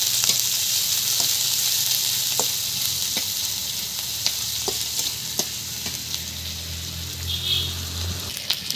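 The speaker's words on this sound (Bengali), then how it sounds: "ভাজা ভাজা করে নেব" Fish pieces and chopped onion frying in a pan give a loud, steady sizzle that runs the whole time, with scattered sharp pops and stirring scrapes.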